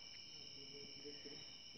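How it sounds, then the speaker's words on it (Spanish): A cricket chirps in a steady high trill outdoors among spiders and scorpions, a faint continuous buzz that runs for the whole moment with no voices over it. "Y ahí está un grillo."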